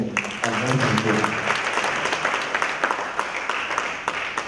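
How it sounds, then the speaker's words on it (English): Seminar audience applauding the organizers, a dense round of clapping that rises under a voice at the start and carries on steadily with scattered sharper claps as the talk fades. "can we give Damon and my paper a big round of applause for organizing it?"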